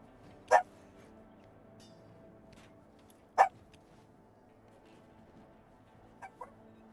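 Two sharp barks from a dog, a few seconds apart, with a couple of softer yips near the end, heard at a moderate distance against quiet background noise.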